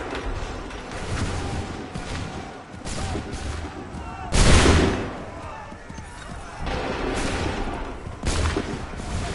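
A musket volley thunders in an Assassin's Creed III battle, booming gunfire bursts with one especially heavy blast midway, while soldiers' shouted commands are heard over the din.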